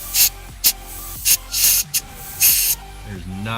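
Air hissing out of a leaking turbo hose on a twin-turbo Mustang as the hose is pressurised: about six sharp, loud bursts of close hiss in an uneven rhythm, with short gaps between them.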